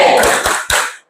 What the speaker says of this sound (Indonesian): Kita kasih tepuk wow untuk kelompok 1